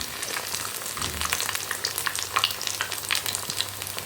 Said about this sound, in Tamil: மிதமான தீயில் வச்சு நல்லா பொரித்து எடுத்துக்கலாம்